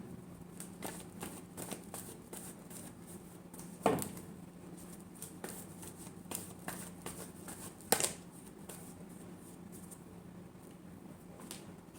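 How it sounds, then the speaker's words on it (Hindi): Tarot cards being shuffled by hand in a quiet room, a steady run of soft papery riffles and flicks with a couple of sharper snaps, close and fairly faint, no talking. "last shuffle"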